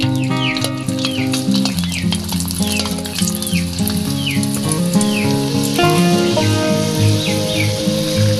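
Two garlic cloves frying in hot ghee, a steady loud sizzle lasting the whole stretch, with music playing over it.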